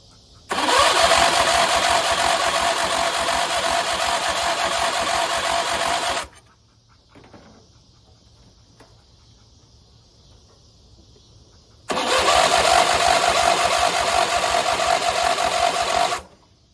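A Craftsman riding mower engine, choked and throttled, roars loudly for about six seconds, cuts to a quiet idle-like lull, then bursts back to a loud steady run near the end.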